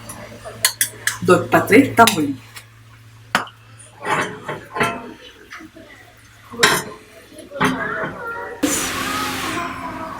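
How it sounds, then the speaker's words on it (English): Utensils clink and scrape against pots and a steel vessel as ghee goes into tambuli in a home kitchen, with bursts of close metallic chinks and brief speech between them. "So I'm adding a little bit of ghee and switching off the gas."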